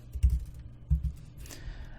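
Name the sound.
typing on computer keyboard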